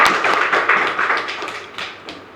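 An audience at a conference hall claps in uneven, patchy bursts, fairly close, for a couple of seconds, with the applause slowly thinning out toward the end.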